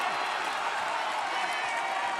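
A wrestling arena crowd applauds and cheers in a steady, roaring wash of noise, while a commentator talks over it.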